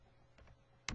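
A few keystrokes on a computer keyboard while entering code, two soft clicks followed by a sharper, louder key press at the end, close and alone with no talk.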